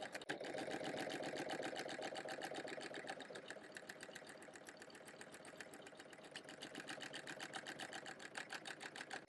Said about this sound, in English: this is the Husqvarna embroidering my logo, and both machines are set to their highest speed